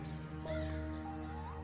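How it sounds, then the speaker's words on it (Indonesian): A single crow caw rises faintly over a steady low background hum, brief and somewhat distant. "Terdengar suara burung gagak"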